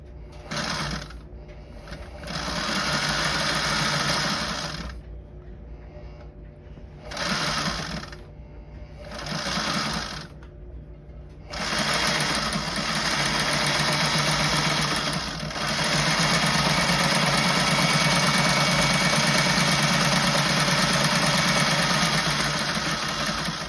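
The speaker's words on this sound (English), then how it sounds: "you want to set your machine to the basting stitch, so it's going to be the biggest stitch that you have" A sewing machine runs a long basting stitch through a hinged boat cockpit cushion, starting in several short, loud mechanical bursts, then settling into a long, steady whirring run with no talking.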